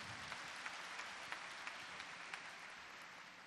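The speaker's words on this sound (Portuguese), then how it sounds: "Uma salva de palmas para vocês" Applause from a church congregation during a homily, a steady wash of clapping at a faint, distant level, with a few sharper claps standing out over the continuous spread for the whole stretch.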